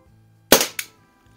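Two quick, sharp cracks from a Crosman 44 Peacemaker CO2 air revolver made around 1976–81, fired close by in rapid succession, each snapping loud and fading fast.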